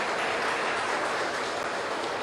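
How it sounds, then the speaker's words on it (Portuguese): A church congregation applauds together after a call to praise the Lord, a dense, steady wash of clapping filling the room at moderate loudness, with no voices over it. "Será que a gente pode aplaudir o Senhor mais uma vez,"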